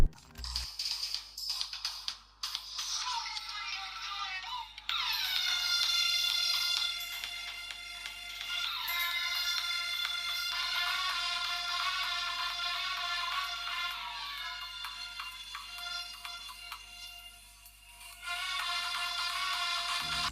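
Music plays from the small stereo speakers of a Meizu Mblu 22 Pro smartphone at moderate volume, thin and bright, running continuously with a brief dip near the end.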